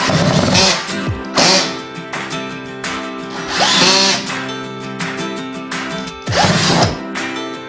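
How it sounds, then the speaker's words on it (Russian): A cordless electric screwdriver drives screws into furniture in an apartment, its motor whirring loudly in three or four short bursts with pauses between, no talking. "Отверткой я только зафиксировала винты, и теперь осталось при помощи шуруповерта довести дело до конца."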